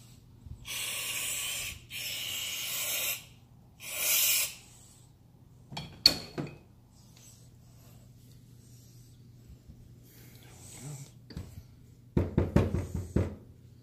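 Carburetor cleaner sprayed from an aerosol can into the small holes of a carburetor, three steady hissing bursts near the start followed by a few knocks and clinks of handling, close up, with no voices.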